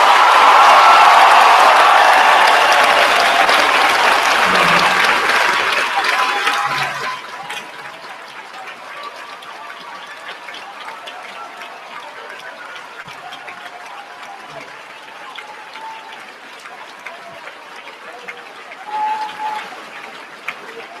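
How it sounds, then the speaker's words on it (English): Graduation crowd applauds military enlistees bound for the Marines, Navy and Army at a high school ceremony: loud, dense clapping and cheering fills the first seven seconds, then fades to a quiet hall with faint scattered sounds. "Can we give a round of applause?"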